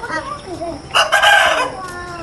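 A rooster crows once, loud and close, with a Paper White Heera breed fowl flock nearby, a short rising cock-a-doodle-doo burst following quieter clucks.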